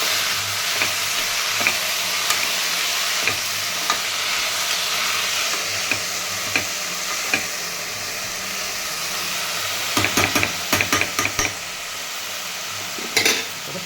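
Amaranth leaves frying in a pan for dal, a steady hissing sizzle close by, broken by light clicks and a few quick bursts of utensil taps against the pan.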